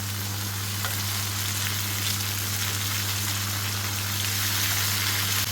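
A pan of ingredients with dried mint and rock salt being stirred, giving a loud, dense sizzle and frying hiss that runs continuously over a low steady hum, with faint scraping of the spoon, no talking.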